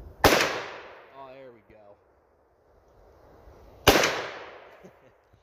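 Two loud, sharp AR-style rifle shots fired outdoors a few seconds apart, each with a long fading echo, and someone speaks briefly between them.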